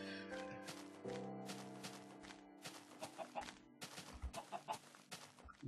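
Chickens in the Minecraft video game cluck in short, separate calls over a quiet background. Some steady tones run through the start, and the clucks grow more frequent and rhythmic toward the end.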